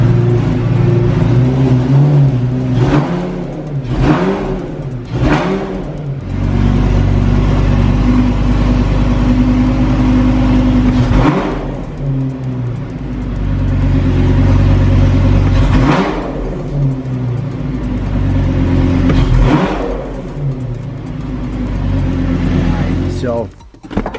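A Lamborghini Gallardo fitted with a Sprint Booster runs in a garage while warming up. Its steady engine drone swells into several short revs and settles back down, loud and close throughout.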